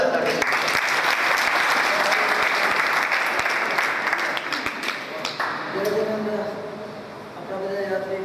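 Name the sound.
audience applause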